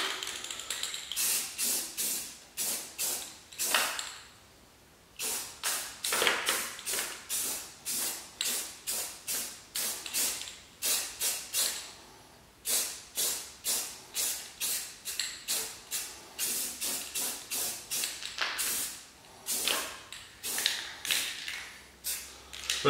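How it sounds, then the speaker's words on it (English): Rapid bursts of a fine paint mist being sprayed during a first coat, short hissing pulses repeating in quick rhythm with brief pauses between groups, close and fairly loud with no talking. "So I'm just gonna give it a fine mist at the start here."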